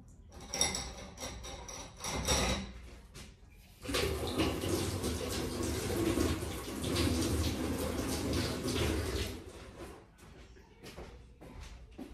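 A small spoon rinsed under a running kitchen tap, with water splashing in bursts, then a longer steady gush and a few clinks of metal, heard close with no talking.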